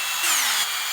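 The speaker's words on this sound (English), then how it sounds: "I'm going to drill some holes, just kind of poked in here" A power drill boring holes into end grain and aluminum on a cane sword build, a short high whine rising in pitch as the bit bites, close and loud with no talk.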